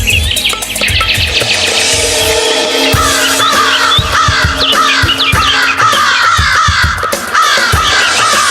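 Several crows caw repeatedly in harsh, overlapping calls, loud and close, with smaller birds chirping faintly in the background.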